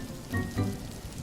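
Rain falls steadily, a soft hissing patter with a couple of brief louder swells, no voices.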